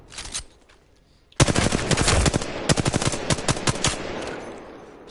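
R-301 assault rifle in Apex Legends firing in rapid automatic bursts, loud and close, following a brief quiet moment, with short pauses between strings of shots.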